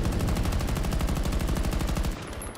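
Rapid automatic gunfire in the shooter game Battlefield 2042, a loud continuous rattling burst that runs almost the whole time before cutting off abruptly near the end.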